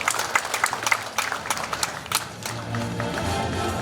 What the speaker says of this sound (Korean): 다른 이견이 없으면 박수로 동의를 표시해 주기 바랍니다.